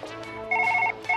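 Inside Surgeon Simulator, a phone rings in short warbling electronic bursts, two pulses with a gap, clear and close with faint background hum.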